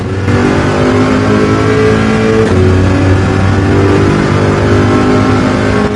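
A Corvette race car engine in Gran Turismo 7 revving hard and holding a loud, sustained tone that shifts pitch midway, close and continuous with no voices.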